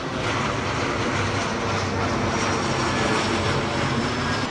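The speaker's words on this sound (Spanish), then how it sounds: "Mira qué tan cerquita está el avión." A low-flying airplane passes close overhead near a NASA site, its engines producing a loud, continuous broadband roar that fills the whole stretch evenly.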